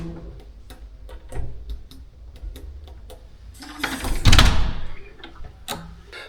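Apartment door unlocked by entry code and opened, a run of sharp ticking clicks and keypad beeps followed by a louder clunk and rushing sweep as the door swings, close and fairly quiet.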